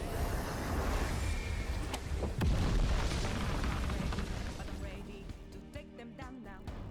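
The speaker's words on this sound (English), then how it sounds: "this is her Beast Explosion ability" The Beast Explosion ability in the Anime Vanguards video game erupts as a loud, dense blast of booming noise with sharp bursts and crackles, sustained for several seconds before easing into lighter ringing effects.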